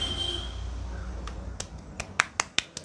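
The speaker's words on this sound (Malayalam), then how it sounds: "ഞാൻ തന്നെ ഒരു ക്ലാപ്പ് അടി കൊടുത്ത്." Several short, sharp hand claps, about five or six in quick irregular succession, sound faintly near the end after a quiet stretch of low hum.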